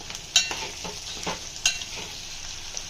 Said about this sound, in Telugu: పసుపు యాడ్ చేసుకున్న తర్వాత ఇలా బాగా కలుపుకోవాలి